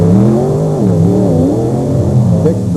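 Drag racing cars on a beach track at Wildwood, New Jersey, in 1995 produce a loud, continuous engine roar whose pitch wavers and climbs, heard up close and filling the whole moment.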